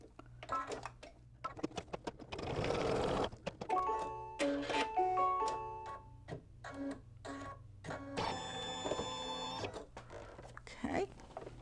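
An embroidery machine stitches down the hair on an in-the-hoop monster bag, giving off rapid mechanical tapping and whirring bursts with short pauses between them. Close and fairly quiet, it sounds alone with no talk.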